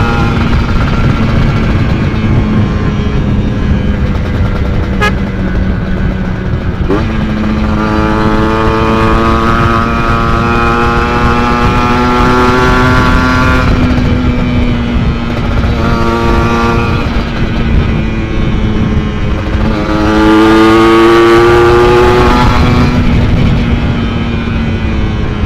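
Motorcycle fitted with a PWK 28 carburetor and a 33++ reamer revving hard on a test ride, its engine note rising and falling in repeated loud sweeps that stay close and steady throughout.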